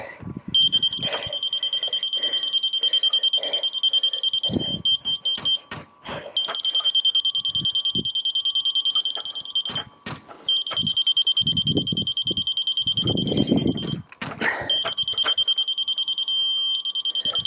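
A steady high electronic tone from a level beeper sounds in long solid stretches, broken by short gaps, over clunks, scrapes and handling noise close by while footing blocks are levelled.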